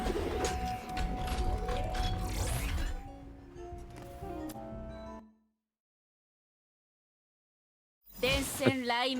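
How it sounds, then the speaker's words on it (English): Pigeons or doves cooing in the video game Honkai Impact 3rd, soft repeated coos mixed with game sounds and talk, then a silent gap before more sound returns. "Hear the birds."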